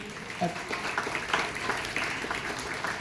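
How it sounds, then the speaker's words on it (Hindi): Audience clapping at a sports academy coach's motivational talk, honoring women officials; a steady, moderately loud patter of applause fills the moment while voices carry on underneath. "इसके लिए आप ताली मार दो भी एक दिन।"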